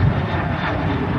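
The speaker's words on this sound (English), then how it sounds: "you pretty much heard the Ryanair taking off on the same runway" A Ryanair airliner takes off from the runway with a loud, steady jet engine roar, broad and rumbling throughout the short stretch, heard from nearby.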